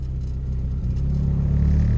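A car moving forward after shifting out of reverse, its low engine rumble rising and steadying over a couple of seconds as it pulls ahead, close and continuous with no talking.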